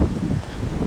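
Wind gusts buffet the microphone outdoors on a walk along a lonely road, a low, rumbling, uneven roar with no voices.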